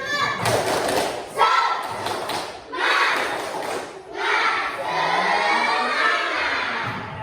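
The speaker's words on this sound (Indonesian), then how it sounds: "kita tepuk semangat dulu ya" An Indonesian school class performs a rhythmic spirit clap in bursts of loud, hard claps and thumps, separated by short pauses, with children's voices mixed in.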